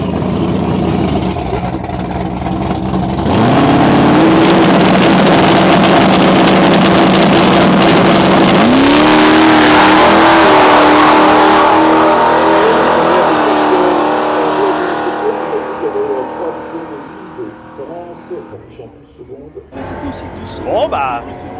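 A drag-racing dragster at a European meet in Clastres, France, holds a loud, close burnout on launch control, the engine roaring and climbing in pitch before the noise fades away at the end.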